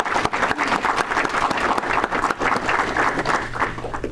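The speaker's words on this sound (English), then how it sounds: "So let's give all of the students a round of applause." A room full of people clapping steadily, dense applause sustained for several seconds.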